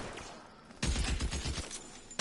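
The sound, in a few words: gunfire in video game L.A. Noire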